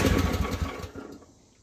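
A Chinese mini excavator engine cranks and runs roughly on full choke, a loud uneven chugging that fades out after about a second and leaves near silence.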